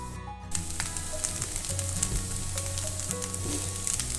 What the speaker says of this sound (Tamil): இது எண்ணெயில் கொஞ்சம் நேரம் வதங்கட்டும்.